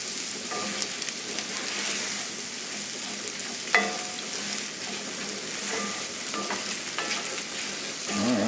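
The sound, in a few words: ground beef and vegetables frying with tomato paste and flour, stirred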